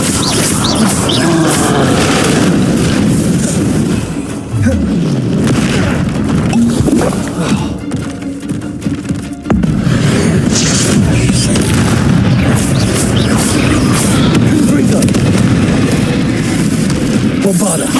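Booming Confringo spell blasts in the Hogwarts Legacy video game, loud and dense with rumbling bursts running continuously through the clip.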